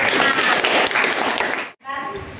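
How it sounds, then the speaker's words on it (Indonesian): An audience claps for a presenting student group in a classroom coaching session: dense, steady applause fills most of the moment, breaks off briefly near the end, then a softer tail of claps and voices returns. "Tepuk tangan dulu."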